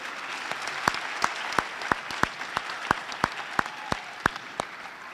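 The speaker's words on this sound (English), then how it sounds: "giving a round of applause to two tremendous people who are on our stage today" A school audience at a Diversity Day stage event claps for two guests, the applause thin and sparse with about a dozen distinct, fairly regular hand claps standing out over a soft background hiss.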